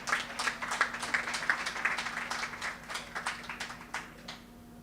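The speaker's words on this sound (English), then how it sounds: "a round of applause to our patron" Applause at a track and field meet launch event in honor of an absent patron: a modest gathering clapping in sparse, distinct bursts over a steady low hum, gradually thinning out toward the end.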